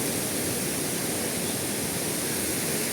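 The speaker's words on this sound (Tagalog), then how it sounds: "Umaagos-agos yung tubig dyan." Flowing water in Hong Kong Park, a constant hissing rush like a small waterfall or fountain, steady and close with no other sounds on top.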